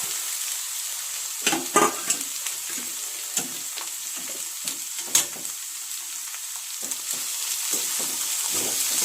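Capsicum sizzles steadily in hot tempering oil for a capsicum tomato curry, with a ladle scraping and stirring in repeated sharp knocks against the pan throughout.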